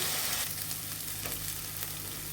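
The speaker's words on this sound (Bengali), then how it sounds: "এখন একটু জল দিয়ে মশলাগুলো ভালোভাবে কষিয়ে নিব" Ground chili and coriander spices fry in a pan with a splash of water, making a dense, continuous hiss of sizzling, close and steady with no voices.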